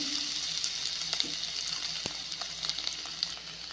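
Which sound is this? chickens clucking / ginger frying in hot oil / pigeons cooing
ginger frying in hot oil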